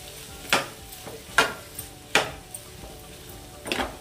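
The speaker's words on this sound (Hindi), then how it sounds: "और इसको थोड़ा सा चला लेंगे इस तरीके से" Boiled white chickpeas are stirred in a pan over a low sizzle, with four or five sharp scrapes and knocks of a spoon against the metal at an uneven pace, close and clear with no talk.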